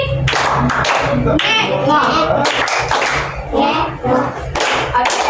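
A school class clapping along in a classroom clapping game, several loud bursts of group claps that shift in rhythm and count, mixed with a teacher calling out and children's voices.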